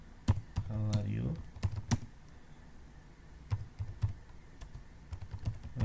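Keys on a computer keyboard tap out a short phrase in bursts of quick, sharp clicks at close range, with a voice talking over part of it.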